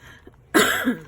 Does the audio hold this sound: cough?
yes